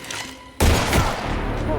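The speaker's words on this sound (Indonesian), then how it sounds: "Daun telinga Panji terkena tembakan dari sosok preman langganan sang menteri sosial" Gunfire from a street thug strikes suddenly after a quieter moment, a loud burst of shots that rings out for over a second, set over a low ambient bed.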